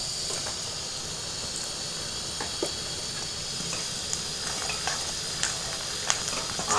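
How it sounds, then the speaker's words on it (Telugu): Salted onions fry for a chicken gravy, giving a continuous close sizzle and hiss scattered with small pops and clicks, steady in level and growing slightly busier toward the end. "ఆనియన్స్ బాగా ఫ్రై కావాలి"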